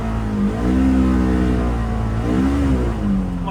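Engine of a Polaris Xpedition utility vehicle revs steadily while driving on rough ground in below-freezing cold, a continuous close drone with two rising-and-falling swells in pitch.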